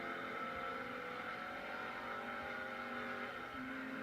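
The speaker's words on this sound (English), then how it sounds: "What's great about the SS is the engine note. This car just sounds badass." Chevrolet SS engine note, a steady deep rumble with layered harmonic tones that holds at a constant level, close and loud with no talking.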